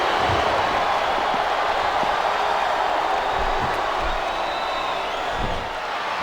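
Arena crowd noise from the wrestling video game WWE SmackDown vs Raw 2007, a steady loud roar of cheering and chanting that fills the whole stretch without letup.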